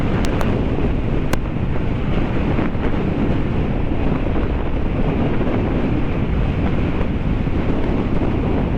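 Strong wind roars continuously against a helmet-mounted mic on a moving Honda Click 150i scooter on a North Luzon road, a loud, dense, steady rumble with a few sharp clicks near the start.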